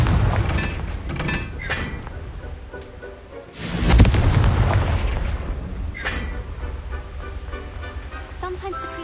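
Confringo, an explosion spell in Hogwarts Legacy, bursts with a heavy booming blast at mid-clip, loud and close, amid rumbling combat noise and game sound.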